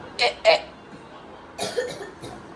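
Two short coughs come close together indoors at home, followed by quieter throat sounds and a brief murmur.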